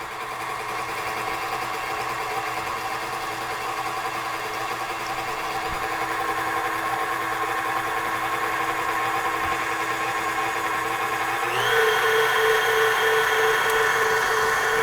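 An electric mixer whips Frangelico cream, a steady close motor whine with a constant tone that jumps higher in speed near the end as the setting is raised, no talking.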